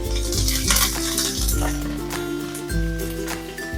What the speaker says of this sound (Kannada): ಹಸಿಮೆಣಸಿನಕಾಯಿ ಒಗ್ಗರಣೆಗೆ ಹಾಕೋಣ.